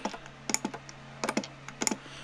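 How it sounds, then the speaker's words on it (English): An eSUN eBOX 3D printing filament storage box clicks repeatedly in irregular bursts of sharp, close ticks over a steady low hum. "It does make a clicking sound all the time."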